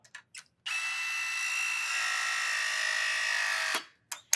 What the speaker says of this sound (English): So the first press would be right here on the bottom.